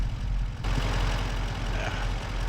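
A tractor engine idles in a farming video game, a low, steady rumble holding at an even level throughout the short stretch with no voices over it.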